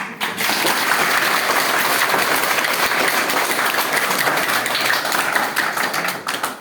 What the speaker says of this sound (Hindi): बस जोर से ताली बजा दीजिए।